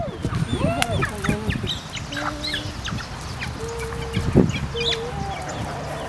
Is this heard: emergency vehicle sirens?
no